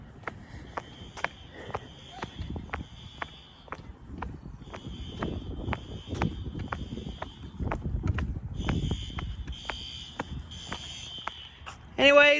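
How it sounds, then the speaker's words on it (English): SpectrAlert Advance fire alarms sound in a college building during a system test, sharp horn blasts repeating in quick bursts with pauses, some sections pulsing steadily, heard at a moderate distance amid footsteps and faint movement. "Fire alarms are going off."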